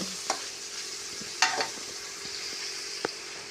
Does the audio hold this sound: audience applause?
no